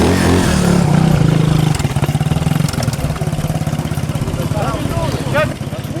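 A motorcycle engine runs at a steady, low throbbing idle close by, with a slight rise in revs near the start, while people talk over it throughout.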